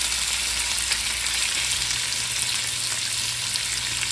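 Bacon-wrapped scallops frying in a pan, browning on each side: a loud, dense, continuous crackling sizzle held close and steady throughout, no talking.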